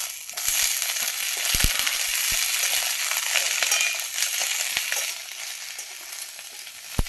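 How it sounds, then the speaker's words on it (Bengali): Sweet potato pieces go into a pan of frying eggplant for a Bengali begun tok, setting off a loud, steady sizzle with a few sharp clicks and knocks from the pan throughout. "এবার রাঙালু দিয়ে দেবো।"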